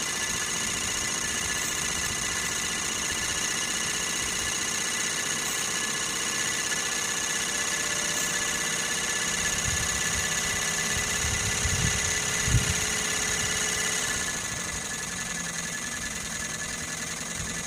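Sirius steam engine generator on a test run, a steady mechanical hum and rhythmic chugging held at a constant level with an oil separator quieting the exhaust, dropping slightly near the end.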